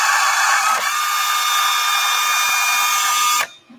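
A FlexArm tapping arm drives a quarter-inch tap into a chamfered hole, giving a loud, steady motor whine close by that holds for about three seconds and then cuts off abruptly.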